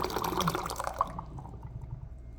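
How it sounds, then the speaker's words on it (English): Hot water pours into a mug in a steady, close splash during matcha latte prep, the stream cutting off after about a second to leave a quiet low hum. "We're gonna fill the mug halfway with hot water, so it's not just all milk"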